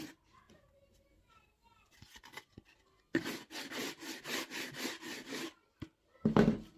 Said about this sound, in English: Sandpaper this side, that's the back side.